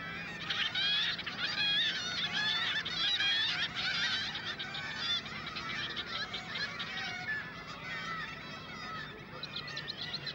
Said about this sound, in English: It's the kittiwake, which you won't find in London or Oxford.